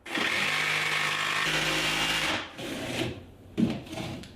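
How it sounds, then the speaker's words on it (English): A jigsaw guided along a speed square cuts through wood with a buzzing, rasping whine for about two and a half seconds, then stops, leaving a few faint knocks and handling sounds. "I'm going to show you how to do it with a jigsaw and a speed square"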